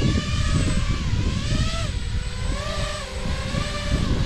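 Buzzing whine of an RC floatplane's electric propeller motors flying over a lake, loud and steady with pitch rising and falling as it passes.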